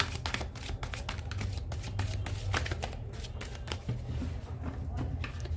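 Tarot cards are shuffled close up in a continuous run of quick papery riffles and flicks, with soft handling noise and no talking.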